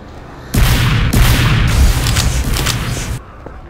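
Three heavy rocket explosions in a video game boom in close succession, each one loud and rumbling and running into the next, then stopping abruptly.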